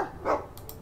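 A dog in the game Dragon Age 2 gives a single short, fairly close bark, then a couple of faint yips.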